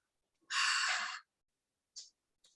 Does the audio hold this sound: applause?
no